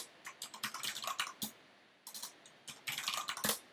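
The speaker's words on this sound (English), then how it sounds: "Typing." Irregular bursts of clicking keystrokes on a computer keyboard, close and moderately loud, with a short pause midway before the typing resumes; no voices.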